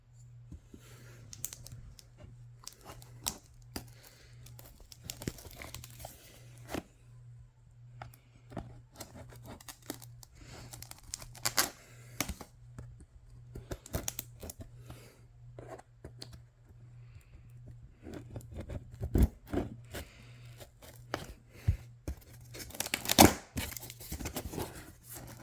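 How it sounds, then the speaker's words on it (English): Scissors cutting open the packaging of a new Lenovo laptop box, with scattered sharp snips, clicks and crinkling tears that come in irregular bursts and grow busier toward the end, close by with no talk. "Let me get some scissors."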